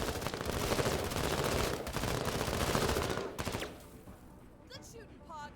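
Rapid sustained gunfire in a tactical video game rattles loudly for about three seconds, then drops away to quieter ambient tones and faint chirps.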